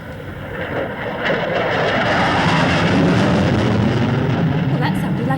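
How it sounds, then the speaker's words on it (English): Loud, sustained roar of a supersonic jet passing overhead, a broad rumbling wash that swells after the first second and holds steady to the end, with no voices over it. "that sounded like a supersonic jet"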